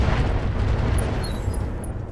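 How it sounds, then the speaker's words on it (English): Ammo explosion on a battle mech in Roguetech, a BattleTech mod, a loud sustained roaring blast that rumbles for a couple of seconds with faint high pings over it and no talking. "But the ammo explosion's pretty sweet."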